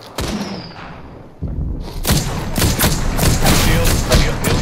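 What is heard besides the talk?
gunfire in a battle royale video game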